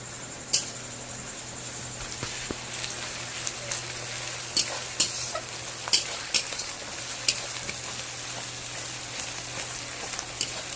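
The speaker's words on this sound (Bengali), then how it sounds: "মশলাটা ভাজছি, একটু অল্প করে ভাজা হয়ে গেলে" Steady frying sizzle with scattered pops and crackles from spice paste with ginger paste in hot oil, close by, occasional stirring scrapes, no talking.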